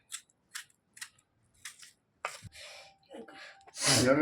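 Tomatoes cut into chunks with a knife for tomato rice: a series of short, crisp slicing cuts at a steady pace, then rustling and a louder burst of handling noise close to the mic.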